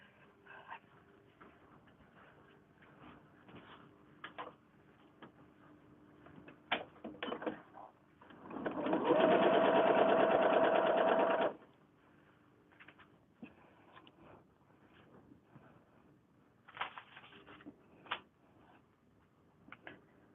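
A sewing machine chain-pieces quilt blocks for a Japanese lotus-flower quilt in one steady run of stitching lasting a few seconds, amid quiet room clicks and handling noises.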